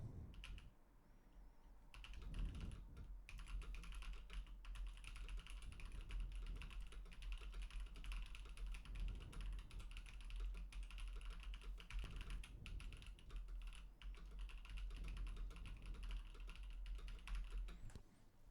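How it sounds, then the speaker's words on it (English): Typing on a mechanical keyboard, picked up by a dynamic microphone in a background-noise test: a steady stream of quiet, close clicky keystrokes that runs with no one speaking. "And now we're going to do a little background noise test with a little typing test on my mechanical keyboard."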